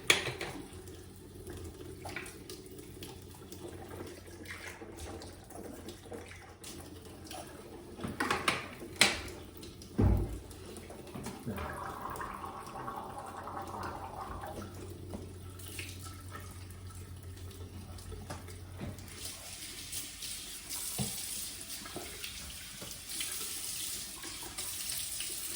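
A bathroom tap runs into a sink for washing, a steady close hiss of water with clinks and handling knocks midway, the flow changing in tone toward the end.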